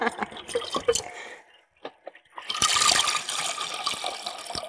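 Water is poured by eye into a regular cooking pot of rice, arriving as close splashes and gushing pours broken by a short pause, with dripping between.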